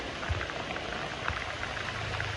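Heavy rain pattering steadily on a surface on Koh Larn island near Pattaya, Thailand, a soft continuous hiss of drops with occasional louder splashes.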